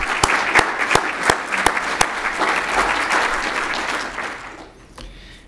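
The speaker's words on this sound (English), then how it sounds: "please join me in just giving those two a round of applause" An audience at a 2019 State of the City civic address breaks into sustained applause, dense clapping with a few sharp individual claps standing out, fading down at the end.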